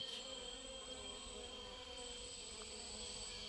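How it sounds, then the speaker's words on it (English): Insects buzz and whine in the Guyana rainforest, a steady droning chorus with high-pitched continuous tones, faint and unbroken throughout. "the animal life, in particular insects and mosquitoes."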